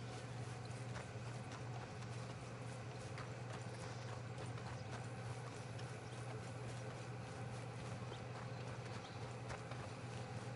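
Rhythmic horse hooves clip-clopping steadily over a constant low hum, a continuous trotting pattern with no talking, from the video game Red Dead Redemption 2.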